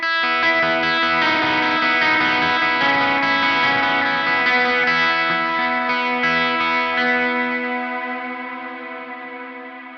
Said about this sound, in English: Just turned on some heavy reverb because I got some cool sounds going out of it.